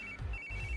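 A phone ringtone trills in short repeated electronic tones over a low rumbling background, no voices.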